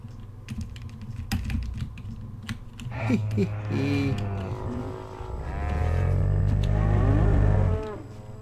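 Cows mooing in the Minecraft JurassiCraft 2 mod, two long loud moos near the end, with keyboard clicking beforehand.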